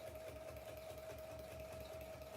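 A sewing machine stitches binding strips onto the edge of a quilt, a quiet continuous whirring hum with a faint regular needle rhythm, no voices.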